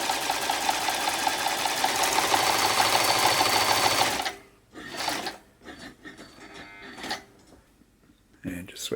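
A Janome Combi sewing machine stitches a narrow zigzag in a loud, fast, even mechanical chatter for about four seconds, then stops, leaving quieter handling noises, brief bursts and a person talking.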